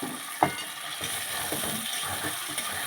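Fish curry of tengra fish sizzles and frying oil hisses steadily in a pan while coriander powder and cumin paste are stirred in, with one sharp utensil clink near the start and soft scraping after.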